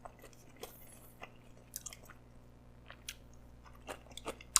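Someone bites and chews crunchy kimchi served as a side dish with Korean pork neck, a series of close, quiet, irregular crisp crunches over a faint steady background hum.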